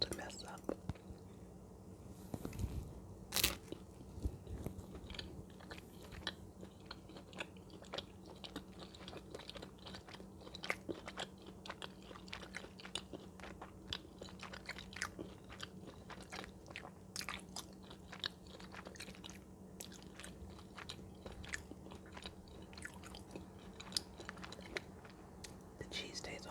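Close, quiet eating of homemade split pea soup, with soft slurps, chewing and occasional crunchy bites picked up by a sensitive microphone, alongside faint whispering and low background hum.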